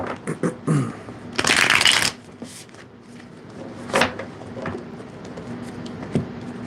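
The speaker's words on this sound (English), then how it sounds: "One more shuffle here." A deck of tarot cards is riffled and shuffled up close, with a dense burst of flicking cards, then a few soft taps and handling noises.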